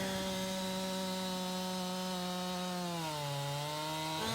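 A chainsaw trims a log in Farming Simulator 19, its steady engine drone sustained and fairly quiet, dipping in pitch toward the end as the cut loads it, with no talking.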